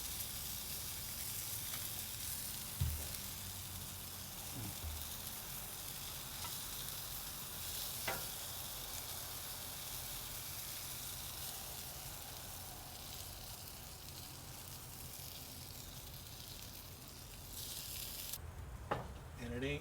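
Chipotle-marinated pork sizzles and crackles steadily as it chars on a grill, a continuous close hiss running the whole time with a few brief pops and knocks.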